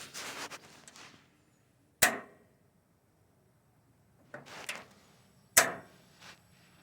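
Two sharp, loud clicks of a gas grill igniter, spaced a few seconds apart, with rustling and handling noise before each one.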